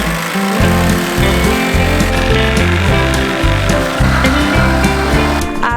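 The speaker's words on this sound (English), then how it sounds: "Now we're gonna show you the blade in action. We are creating our notches." A power saw blade cuts notches into wood framing during a DIY van build, a loud, continuous buzzing cut with rhythmic pulsing bursts as it bites through the workpiece.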